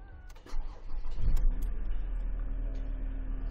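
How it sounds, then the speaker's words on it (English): A 2017 Ford Ranger engine cranks and catches with a short burst, then settles into a steady low idle close by, with a few clicks and thumps from inside the cab. "I'm gonna quickly jump in, start this beautiful car up"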